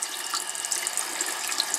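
A bathroom tap runs lukewarm water for washing an e.l.f. eyeshadow brush, a steady close hiss of flowing water into a sink with no speech.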